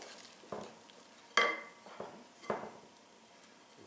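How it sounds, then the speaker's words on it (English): Spoon stirring all-purpose flour into a shaggy bread dough in a bowl, a few soft scraping strokes and dull knocks spaced about a second apart, quiet and close. "Stir, and I always stir in the same direction"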